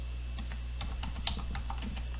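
Java code being typed on a computer keyboard: quick, irregular key clicks close up, soft and steady over a low hum, with no talking.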